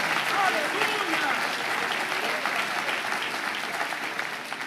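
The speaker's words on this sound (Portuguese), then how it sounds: "Aplauda Jesus." Steady clapping fills a church hall as the IEQ congregation in Piracicaba applauds, loud at first and easing slightly toward the end, with people calling out amid the noise.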